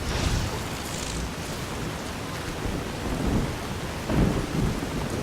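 Heavy rain pours steadily in Fallout New Vegas with the Enclave mod, while deep thunder rumbles roll in and swell louder toward the end, all without talk.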